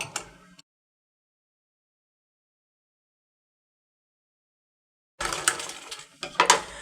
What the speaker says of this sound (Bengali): এই সাইডে আমি একটা সেলাই করে নিব